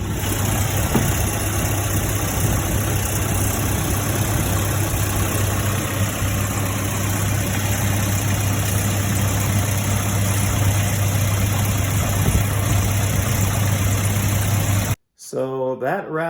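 A 1988 Volvo 240 idles steadily with a constant hum and whine after repairs to its in-tank fuel pumps, running smoothly for about fifteen seconds before a sudden cut and a few clicks at the end.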